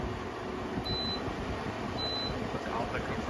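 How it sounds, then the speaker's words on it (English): A Midea 5,000 BTU window air conditioner, model MAW05R1WBL, running in fan mode without the compressor, giving a steady, fairly soft whooshing drone with a couple of brief electronic beeps from its controls. "I'll turn to fan mode so you can see what it sounds like"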